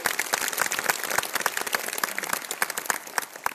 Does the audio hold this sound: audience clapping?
yes